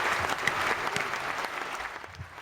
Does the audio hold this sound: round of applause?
yes